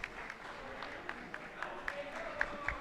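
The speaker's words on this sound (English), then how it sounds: "you'll see some great sportsmanship with CNS and JD-CBA athletes all cheering on this last relay team" Swimmers from Cicero-North Syracuse and J-D/CBA cheer on the final relay team at a boys' varsity swim meet, with a steady indoor crowd roar, scattered claps and short whoops that rise above the din.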